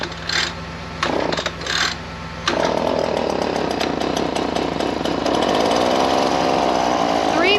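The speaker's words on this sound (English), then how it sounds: "Echo sent us this blower probably 6 years ago." Echo gas leaf blower, about six years old and unused for a long time, with pull-start rattles followed by a small two-stroke engine catching and running loud and steady, revving slightly as it warms up.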